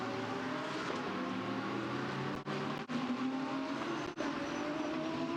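GT3 race cars run down the back straight at Shanghai International Circuit, a steady close engine roar with sustained tonal drone and brief gear-change dips, no talk over it.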